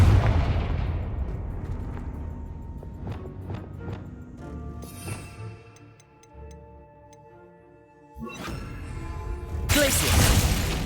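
Confringo fire spell blasts in Hogwarts Legacy: sharp impacts and ticking crackles early on, a lull of ringing tones, then a sudden loud whoosh and a dense, roaring burst at the end.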